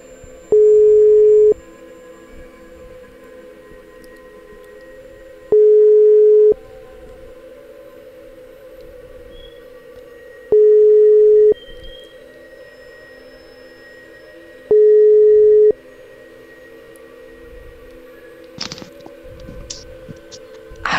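An outgoing phone call rings out: four steady, even ringback tones about five seconds apart, loud and clear over a faint hum. Some indistinct rustling comes near the end.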